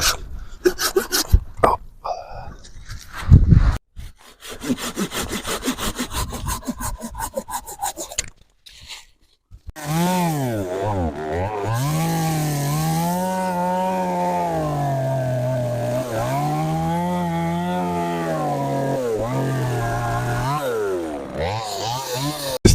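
A fruit tree is sawn off in a village orchard to prepare for grafting, first with a burst of close rasping strokes, then a long, loud, steady droning cut that wavers in pitch.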